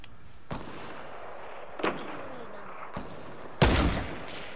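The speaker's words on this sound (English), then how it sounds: "Am I getting sniped by two people at the same exact time?" Sniper rifle shots in a shooter video game ring out as four sharp, separate cracks spread over a few seconds, the last one loudest and trailing off with a brief echo.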